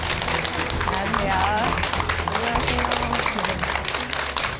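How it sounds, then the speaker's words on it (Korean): A studio audience at a lecture-style talk show claps continuously as a speaker comes to the stage, with a voice briefly greeting over the applause. "큰 박수 부탁드립니다"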